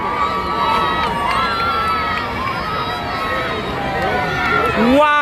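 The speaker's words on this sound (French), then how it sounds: "Foule de monde." Large crowd in Kinshasa cheering Pope Francis's arrival, a dense outdoor roar of many shouting voices with whistles and cries, people talking close by over it.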